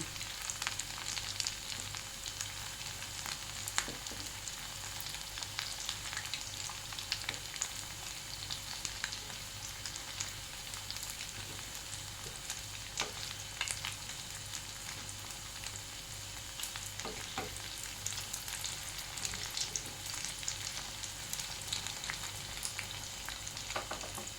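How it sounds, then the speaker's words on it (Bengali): Egg pakoras fry in hot oil in a pan, a dense continuous sizzle and crackle held close and steady, with faint scraping clicks as the pieces are turned over, no voices. "একটা দিক ভাজা হয়ে গেছে, এবার উল্টে দিয়ে আরেক পিঠটাও ভেজে নেব"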